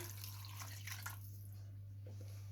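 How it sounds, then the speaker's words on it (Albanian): Roughly 800 ml of water splashes into a cooking pot holding spit-roasted lamb meat, a brief soft pour over a steady low electrical hum that tapers off after about a second. "Mishin e qengjit e kemi shtuar në tenxhere dhe do t'i hedhim 800 ml ujë"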